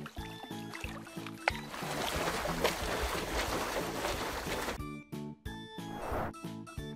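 A cartoonish kids' puzzle game sound effect of a catamaran splashing through water, with bright synthetic music tones before and after the rushing wash.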